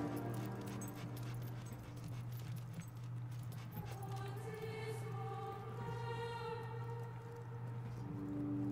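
Dog companion in the video game Fable 2 whimpering and yipping in soft repeated cries over a steady droning music bed, no talk.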